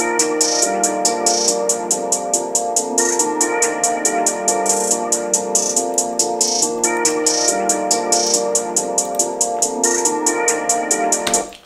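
A trap-style beat loops in FL Studio, rapid crisp hi-hat ticks running in a steady rolling pattern over sustained synth chords and bass, loud and continuous with no voices.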